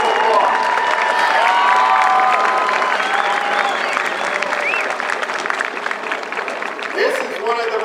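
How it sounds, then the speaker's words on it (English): A large crowd at an Air Force basic military training parade applauds the military training instructors, with a broad, steady wash of clapping and scattered cheers and shouts in the open air. "Please give them a big round of applause."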